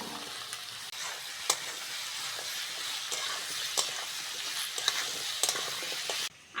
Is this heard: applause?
no